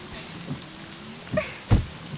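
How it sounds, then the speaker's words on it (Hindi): Rain falls as a steady soft hiss, with two brief louder splashes or thumps near the end. "मैडम बारिश हो रही है"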